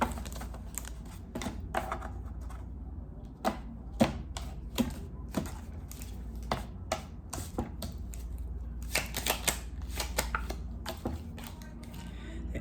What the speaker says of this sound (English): Let me get one more shuffle in.